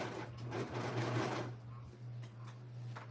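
A serger sewing machine runs in a quick burst of rapid, buzzing stitching for about a second and a half, then stops, leaving a faint steady hum and low room noise.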